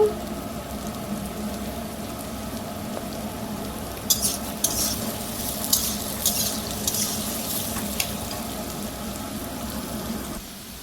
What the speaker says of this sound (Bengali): দেখুন আলুগুলো একদম গোল্ডেন কালার হয়ে গেছে, লাল লাল করে ভাজা হয়ে গেছে।